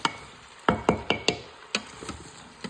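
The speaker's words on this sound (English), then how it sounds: "I'm gonna stir this up a little bit." Potatoes for potato soup are stirred inside an Instant Pot, a series of sharp scraping knocks from a utensil against the pot, spaced irregularly over a faint steady hiss, with no talking.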